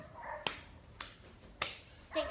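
A very small female dog gives a few short, sharp yips or barks close by, spaced out with quiet gaps between them.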